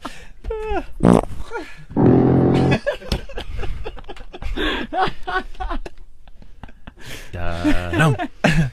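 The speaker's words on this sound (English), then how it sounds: "Whose fart is that?" A fart sound played on a radio show during a guess-who-farted game: a loud, low, buzzing blast of a couple of seconds, with men reacting and laughing around it.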